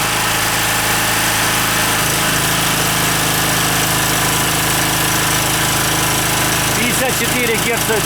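An OKAY 2.8 kW generator with copper windings and AVR stabilisation runs close and loud with a steady droning hum, and a brief rattling knock near the end.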